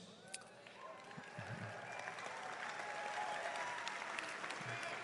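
Graduation audience cheering section applauding, continuous clapping that swells gradually and stays fairly distant, with faint scattered voices mixed in.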